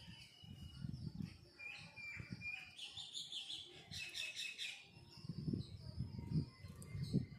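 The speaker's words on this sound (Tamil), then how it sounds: "குருவி சத்தம், அணில் சத்தம் எல்லாம் எப்படி கேட்குது பாருங்கள் ஃப்ரெண்ட்ஸ்." Sparrows chirp and twitter in a grove in the morning, with a brighter burst of bird calls in the middle, and a squirrel may be among the callers. A low, rustling murmur runs underneath throughout.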